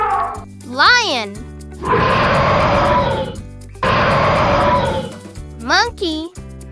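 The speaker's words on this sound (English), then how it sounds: "Lion." A lion roaring twice, each roar a long, rough, heavy rumble, loud and close, set against light backing music from a kids' animal-sound song.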